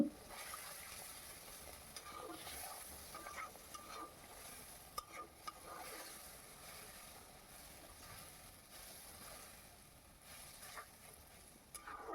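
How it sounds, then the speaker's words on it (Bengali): A soft, steady sizzle as a little water is added to fried spices in a pan, with faint stirring and occasional small clinks, fairly quiet throughout. "মশলা ভাজা হয়ে গেছে, দিয়ে দিচ্ছি সামান্য জল।"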